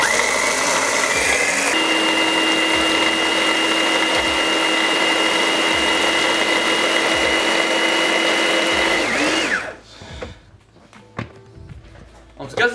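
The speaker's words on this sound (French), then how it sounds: "Et là, c'est le moment de tout mixer." A kitchen blender whirs loudly and steadily for about nine seconds while blitzing rosemary, salt and lemon, then cuts off into quieter rattling and handling noises, with voices talking throughout.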